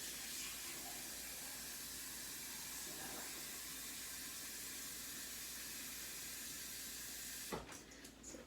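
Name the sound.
water filling a measuring cup for macaroni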